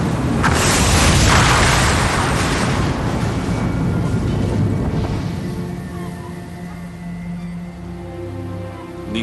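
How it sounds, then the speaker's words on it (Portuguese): A deafening, booming blast from a crashing airliner, loud and broad at first, then a long rumbling roar that slowly fades over several seconds, with no voices. "os moradores de Peggs Cove ouvem uma explosão ensurdecedora"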